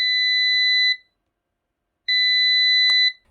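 A homemade sunrise alarm clock's electronic buzzer sounds in two loud, sustained beeping bursts of roughly a second each, separated by a short silence, with a faint click near the end.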